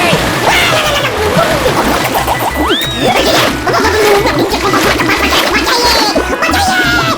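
Water splashes and churns in a pond as someone dives under to swim, the sloshing continuous and close, with excited voices talking and shouting over it.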